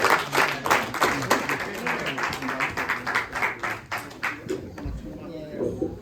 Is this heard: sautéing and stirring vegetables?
no